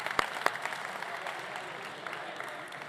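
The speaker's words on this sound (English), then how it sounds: "round of applause." A few sharp claps followed by light, scattered applause from a small martial arts training group, fading over a few seconds.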